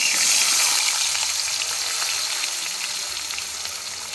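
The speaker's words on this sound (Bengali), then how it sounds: "এবার সজনে ডাঁটা আর আলু ভেজে নেব।" Pieces of drumstick (moringa) and potato fry in oil in a home kitchen, producing a loud, steady hiss of sizzling that fades slightly toward the end, close to the pan with no voices.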